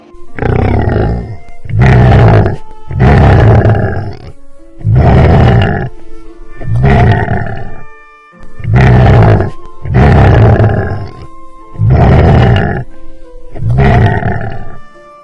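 A tiger roars again and again, eight or nine loud deep growling bursts in a steady rhythm with short pauses between, close and powerful.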